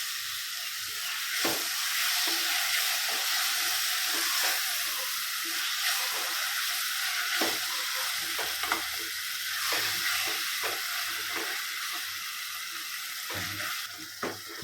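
Fresh mint and coriander sautéing for Chennai-style chicken biryani give a constant loud hiss of frying, with a utensil scraping and clicking against the pot in quick irregular strokes.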